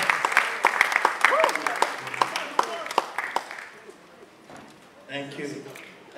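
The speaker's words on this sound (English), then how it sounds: "Please keep clapping," Scattered audience clapping at a film event, sharp distinct claps in an uneven rhythm that thin out over several seconds, with people talking and calling out over them.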